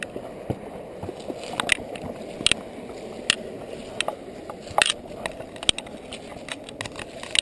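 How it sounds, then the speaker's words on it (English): Water pours over a spillway waterfall beside a trail, a steady broad rush with scattered sharp clicks and taps on top and no voices. "a little break here by the spillway. I guess you could call it a waterfall."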